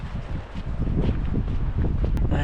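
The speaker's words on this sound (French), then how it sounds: "Sur les hauteurs, on sent le vent, hein. On sent bien le vent." Wind blowing across a mountain height during a hike, a continuous low roaring rumble of gusts buffeting close by, loud and steady with no talking.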